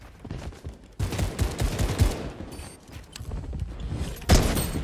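Gunfire in the Fortnite video game: several loud sharp shots and bursts crack close by in quick irregular succession over a busy game background.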